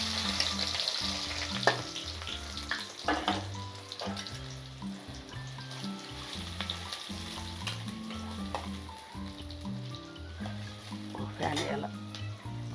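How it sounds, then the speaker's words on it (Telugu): Mustard seeds and chopped onion fry in hot oil in a home kitchen, giving a steady close sizzle with scattered crackles and stirring clatter, and a voice is heard faintly at times. "ఆవాలు కాగుతూ ఉంటే అవి చిటపట్లాడగానే మనం ఫస్ట్ వేసుకునేది ఉల్లిగడ్డ"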